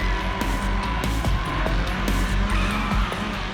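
A drifting car on a racetrack, its engine droning loudly while the tires squeal and skid in repeated bursts, close and continuous with no talking.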